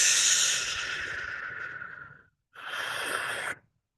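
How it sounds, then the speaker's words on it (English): A long, airy breath drawn in and swirled slowly down during a calming breathing exercise, fading out, then a short pause and a second shorter hissing breath that cuts off; close and intimate, no talking. "this one is where you are following your breath as you swirl it down"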